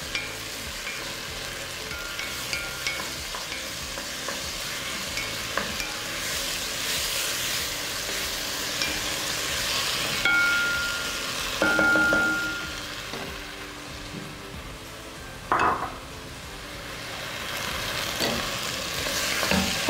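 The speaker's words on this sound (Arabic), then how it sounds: "انا في الوقت ده هحتاج ان انا اضيف الطماطم عشان خاطر يعني اشوحها شويه وانشف الميه بتاعتها" Tomatoes sauté in a hot pan with a steady, broad sizzle, while a utensil occasionally stirs or scrapes through them; there is no talking.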